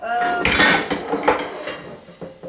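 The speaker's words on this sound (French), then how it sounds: "Une casserole." A saucepan clatters and clangs among other metal pots and pans in a burst of handling, with a few lighter knocks trailing off.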